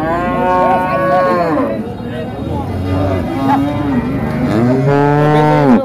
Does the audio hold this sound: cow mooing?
yes